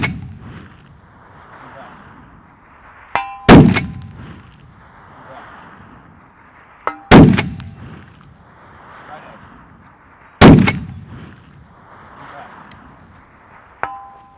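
.50 BMG rifle shots, each a sharp, heavy blast followed moments later by a ringing clang from a distant steel target, repeating four times at a steady pace with quiet outdoor gaps between them.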